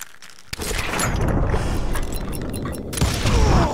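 A sharp, loud gunshot from a drawn revolver in the Western game Call of Juarez: Gunslinger, followed by a sustained roaring rumble and a second heavy swell near the end.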